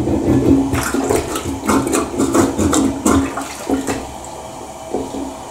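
A toilet flushes after plunging a clog, water rushing and gurgling loudly down the bowl in surging pulses before tapering into a quieter trickle, with no speech.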